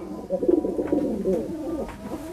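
A large male racing pigeon coos close by, a low, throaty, rolling call repeated throughout the short stretch, with no talk over it.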